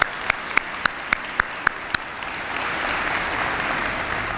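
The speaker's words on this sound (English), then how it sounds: "You deserve our applause." An audience applauds department heads at a community address: a few distinct claps open, then steady, sustained applause from a crowd fills the room at moderate distance.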